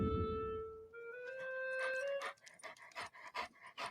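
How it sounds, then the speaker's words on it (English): A dog pants in quick rhythmic breaths, close and fairly quiet, after a brief high whine at the start. "There's the dog."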